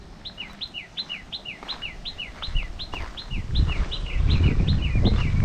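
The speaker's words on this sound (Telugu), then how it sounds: "పక్షులు కూడా బాగా అరుస్తున్నాయి." Birds call loudly outdoors in a fast run of repeated bright chirps, close and clear, while rustling and handling noise build up beneath them toward the end.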